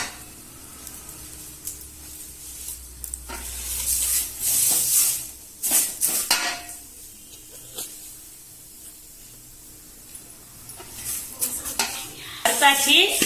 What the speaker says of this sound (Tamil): சேர்த்து ஒரு கிளறி விடுங்க.